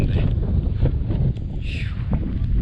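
Wind gusting outdoors in the Pamir mountains, a heavy low rumble of air buffeting the microphone that rises and falls, loud and close, with faint background sounds and no clear talking.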